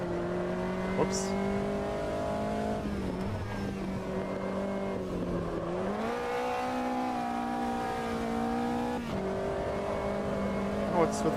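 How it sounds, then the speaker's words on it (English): A race car engine in the Automobilista 2 racing game revs and screams steadily at high pitch, its tone rising and falling through gear changes, loud and continuous throughout. "What's with the screaming engine noises randomly?"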